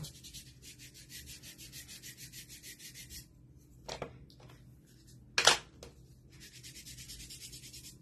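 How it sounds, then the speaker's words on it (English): Distressing ink being rubbed onto handmade garland pieces in quick, even scrubbing strokes, pausing in the middle for a few louder knocks and handling noises before the rubbing resumes, close up. "I'm going to just get a little bit of distressing ink on there, and I'm going to go to town"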